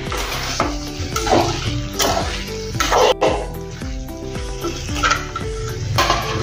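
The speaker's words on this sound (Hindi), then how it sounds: "एक बार और से इसको हिला देंगे चम्मच से।" A spoon stirs and scrapes salted potatoes and eggplant in a hot pan, with clinks against the metal over a continuous sizzle, close by.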